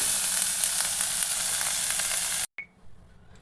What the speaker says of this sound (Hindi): और इसे अच्छी तरह से हम भून लेंगे, कम से कम 2 मिनट तक इसे पका लेंगे।